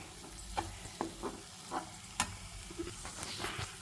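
Bitter gourd fries in a pan, a quiet, steady sizzle with repeated scraping strokes and light knocks from a spatula stirring, close but faint.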